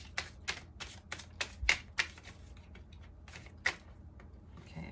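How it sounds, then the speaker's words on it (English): Tarot cards shuffled by hand in short crisp riffling bursts, about eight quick flurries spread across the moment, fairly close and quiet with no talking. "Let's do one more shuffle."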